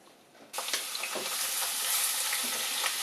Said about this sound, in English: So the oil is heating up, and she's going to start with the onions.